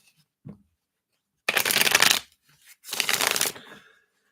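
A deck of oracle reading cards is shuffled by hand in two riffling bursts, close and crisp, with a faint tap just before and no talking.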